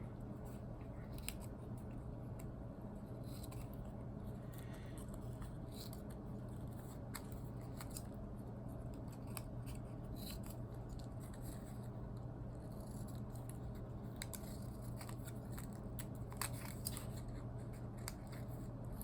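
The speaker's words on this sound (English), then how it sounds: "So I'm just gonna cut extra triangles out from the cuts." Scissors snip paper triangles for a Georgia O'Keeffe-style collage in a classroom, giving quiet, irregular cuts and rustles over a low background hum.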